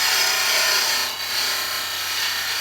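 A wide parting tool cuts into spindle wood turning on a lathe, making a loud, steady, close hissing scrape with a brief dip in the middle.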